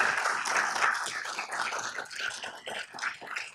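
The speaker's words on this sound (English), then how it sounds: "give them a round of applause" A crowd claps steadily in a dense wash of applause, fairly loud, with no voices standing out.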